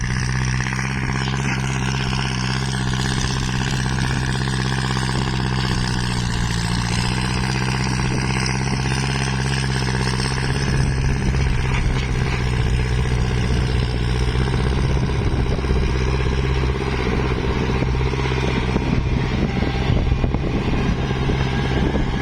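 Farm tractor or six-wheel truck engine in a sandy rice field at the end of sowing season, running steadily and loud with a continuous low rumble, the tone shifting and roughening partway through as it works.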